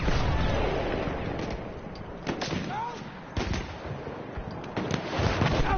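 Artillery fire in Battlefield 1, heavy booms and blasts landing several times amid ongoing battle noise, moderately loud and somewhat distant.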